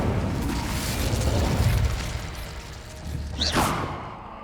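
A fire spell from Hogwarts Legacy ignites in a game scene: a sustained roaring burst of flame carries for a few seconds, with a sharp whooshing flare near the end before it fades out.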